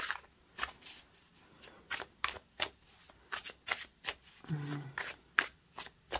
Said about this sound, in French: on va tirer nos 3 cartes pour les énergies pour cette semaine